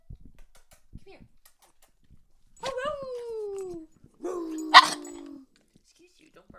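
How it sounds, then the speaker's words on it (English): A pet dog in a home barks twice in quick succession, each bark drawn out into a falling yelp, loud and close, with a few light knocks and faint sounds between them. "Excuse you, don't bark on that."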